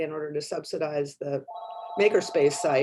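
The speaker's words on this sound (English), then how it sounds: "I'm sorry about my ringing phone." A mobile phone rings partway through a city planning commission video meeting, a steady electronic ring tone sounding for a moment after someone speaks, with talk resuming over the tail of the ring.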